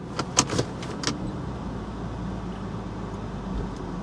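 A Ford F150 pickup with the 3V engine idles with a steady low rumble, and a few light mechanical clicks and clunks come early as it is shifted into gear, then the engine hum carries on evenly.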